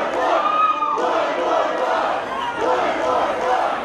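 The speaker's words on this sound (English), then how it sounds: "They're chanting one more fall." Wrestling crowd at an independent wrestling championship event chanting for one more fall, a loud, sustained roar of massed voices with rhythmic chant swells filling the whole stretch.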